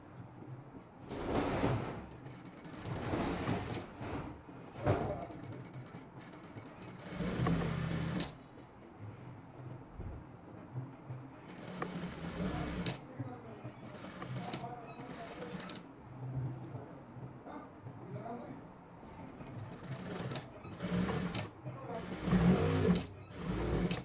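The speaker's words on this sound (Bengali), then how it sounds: "এভাবে এই অংশটুকু একইভাবে সেলাই করে নেবেন" A sewing machine stitches fabric during a beginner tailoring lesson, running in repeated bursts with short pauses between them, close and fairly loud, while a voice talks over parts of it.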